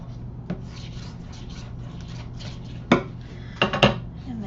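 A tool rubs back and forth over a paper hinge on a craft project, giving soft repeated scraping strokes close by, with a few sharper scratches and taps against a low steady hum.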